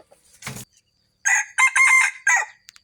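A rooster crows loudly and close by in a Lao-Thai farmyard setting, one full cock-a-doodle-doo in several choppy segments after a brief cluck, then silence.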